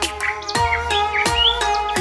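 A Bali myna (jalak Bali), a rare endangered starling endemic to Bali, gives repeated bright chirps and whistled notes, close and clear, in short bursts about every three-quarters of a second with a steady hum beneath.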